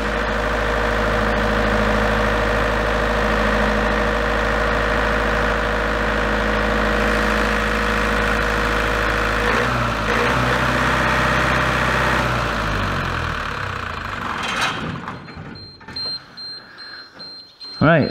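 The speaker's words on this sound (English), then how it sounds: "So I'm just going to start the generator up now" A large diesel generator running with a loud, steady low-frequency drone and whine, then shutting down as the engine note drops away near the end, leaving a faint high tone and a few clunks.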